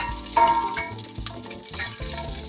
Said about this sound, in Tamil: கொஞ்சம் உளுந்து, கொஞ்சம் கருவேப்பிலை, கேஷ்யூ பேஸ்ட் போட்டு வதக்கணும்.